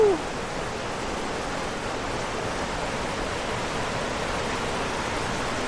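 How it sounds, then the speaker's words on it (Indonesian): Water from the Curug Citambur waterfall stream rushes in a dense, continuous broadband roar, steady and fairly close, with no voices over it. "Air mengalir sampai jauh nih teman-teman ya."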